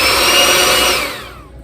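An electric hand mixer runs steadily through muffin batter as eggs are beaten in one at a time, a loud close whir that winds down toward the end.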